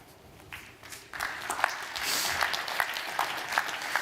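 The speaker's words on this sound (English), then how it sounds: "Please give a warm applause and a welcome to a man that we're going to just call the award-winning designer." An audience at a design conference applauds to welcome an award-winning designer, the clapping swelling from quiet to a steady, moderately loud patter that continues to the end.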